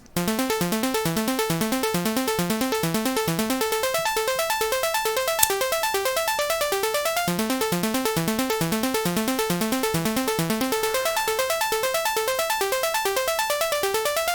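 A Serum-made beat of plucky sine tones with a high-passed noise hi-hat ticking in a rapid, steady rhythm, an LFO sweeping the hi-hat back and forth across the stereo field, looping evenly with a single sharp click midway.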